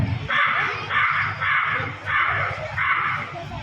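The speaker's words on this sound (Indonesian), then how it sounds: "Nenek sihir pun akhirnya tahu dan menyihir dirinya menjadi seekor gagak untuk menyelamatkan Raden Inu." A crow caws five times in an elementary school students' stage drama, each loud caw evenly spaced in a steady repeating rhythm.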